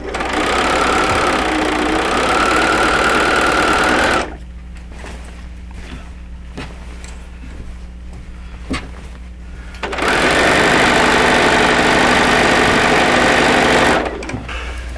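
Sewing machine stitching a seam through printed quilt fabric with a 1/4 inch foot, a loud, close, steady motor whir in two long runs separated by a quieter pause of light clicks.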